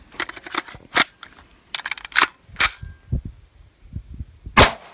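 Rifle shots from an AR-15 loaded with 77-grain bullets striking milk jugs outdoors: several sharp, loud cracks spaced over a few seconds, each followed by short splashing and thudding impacts.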